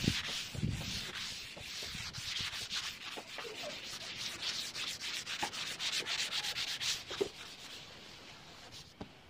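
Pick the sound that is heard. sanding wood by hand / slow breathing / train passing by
sanding wood by hand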